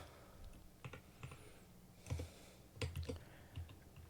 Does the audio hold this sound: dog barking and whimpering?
no